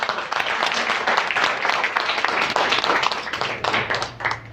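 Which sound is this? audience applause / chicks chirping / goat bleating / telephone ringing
audience applause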